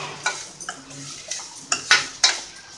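A spoon stirring a coconut powder mixture with carrot in a pan: close scraping and clinking strokes against the metal, about six or seven in quick irregular succession, with no talking.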